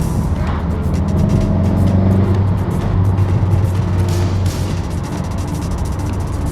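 A VW Golf MK7.5 accelerating hard, its engine a steady, strong low drone with rising hum that pulls continuously without a break, heard loud and close from inside the car.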